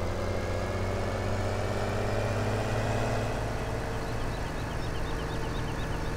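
Tractor engine idles steadily in Farming Simulator 17, a continuous low rumble with a constant hum, heard alone and fairly loud throughout.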